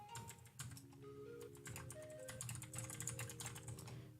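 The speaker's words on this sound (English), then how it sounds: "Sorry if you can hear me typing." Rapid clicking of a computer keyboard being typed on, steady and close, with a faint tonal hum underneath.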